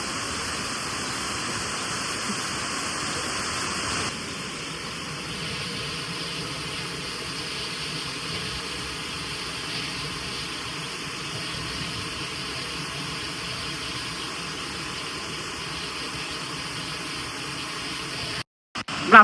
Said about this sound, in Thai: สวยจริงๆครับที่นี่น้ำตกเต่าดำครับ